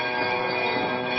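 Church bells of a basilica ringing in Tyre, Lebanon, a sustained, dense metallic toll with overlapping resonant tones, fairly loud and heard alone.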